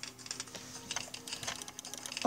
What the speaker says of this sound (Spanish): se oyen clics